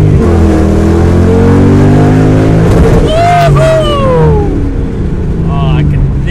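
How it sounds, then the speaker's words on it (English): A Ford Mustang with 4.10 gears accelerates hard through first and second gear, its engine roaring loud and close, pitch rising, dropping at the shift, then climbing again under a steady rumble. "As soon as I picked up the car from the mechanic and placed my foot on the throttle"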